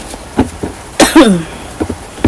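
Several short, sharp coughs in a row, with one louder hacking cough in the middle, close to the microphone.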